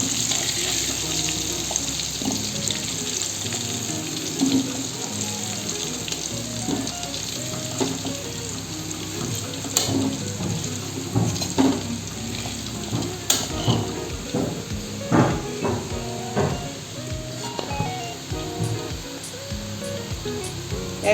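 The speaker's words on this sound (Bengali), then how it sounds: "লাল করে আলুগুলোকে ভেজে নিতে হবে।" Potatoes fry in oil until browned, a dense bubbling sizzle with frequent stirring scrapes and clinks throughout, growing busier toward the end.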